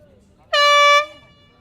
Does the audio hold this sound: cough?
no